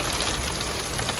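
Heavy rain pours down fast in Gujrat, a dense, steady broadband hiss of drops hitting surfaces that stays constant and close throughout, with no pauses or voices.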